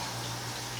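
Water is poured for a whiskey tasting, a brief steady hiss of flowing liquid, close and even, with no voices.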